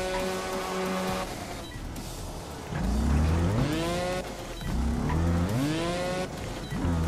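A motorbike engine in the video game Trials Fusion on PS4 revs and whines, rising and falling in pitch in two surging bursts of acceleration over a steady mechanical drone.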